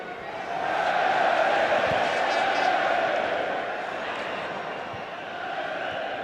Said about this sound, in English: The Germans at Old Trafford cheering their every move now